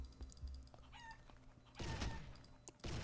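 Chickens cluck in the Eternal Return: Black Survival video game, with several short clucks and squawks rising over a steady game background hum and scattered effects, a louder burst of clucking in the latter half.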